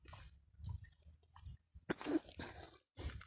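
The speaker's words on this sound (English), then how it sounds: "Can hear some dogs making barking or something, about to go into a fight down there" Faint dogs bark in the distance, a few scattered yelps and barks against a quiet outdoor background.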